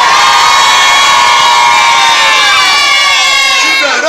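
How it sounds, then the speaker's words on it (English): A large group of children at a church deliverance session shouts loudly and continuously together, a dense sustained roar of voices filling the whole span and tapering slightly at the end. "Children, if you can shout louder, amen, they will not rush you back home from the school."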